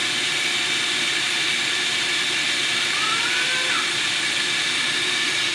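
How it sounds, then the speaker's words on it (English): A blender whirs loudly and continuously as it grinds sesame seeds into tahini, giving a dense, unbroken motor roar with a faint rising whine partway through. "I need to continue blending for a while longer"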